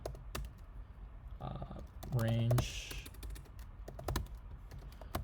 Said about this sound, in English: Sorry, my typing's so terrible right now.